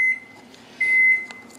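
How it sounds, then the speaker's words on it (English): A microwave beeps twice while making popcorn, a short tone then a longer one, clear and close over faint background hum. "I've got some popcorn in the microwave. That's what you heard there."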